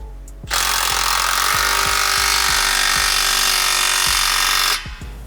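Power tool tightening clamps on a Gibson performance exhaust system on a Ford F-150, a loud steady whir running about four seconds with repeated low rattling clicks, no talking.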